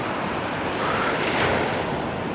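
Sea waves wash onto a beach in Bulgaria, a loud continuous roar of breaking surf swelling slightly mid-way, heard up close with strong wind rumbling on the microphone and no voices.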